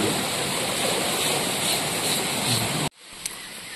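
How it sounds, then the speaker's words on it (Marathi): Heavy rainwater rushes over a village footpath with a loud, steady flowing hiss for nearly three seconds before cutting off abruptly into quiet. "पाणी आलेलं इकडे उपलाट सर्व."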